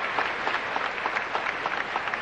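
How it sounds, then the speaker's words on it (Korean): Steady, continuous applause from an arena audience at the 1996 Olympic gymnastics competition, a dense patter of many hands clapping at moderate volume with no voices over it. "이 관중들이 박수 치는 것도 아주 조심스러워해요"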